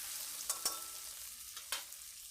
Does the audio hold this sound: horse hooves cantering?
no